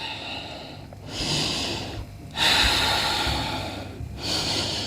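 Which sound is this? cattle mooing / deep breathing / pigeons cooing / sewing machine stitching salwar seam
deep breathing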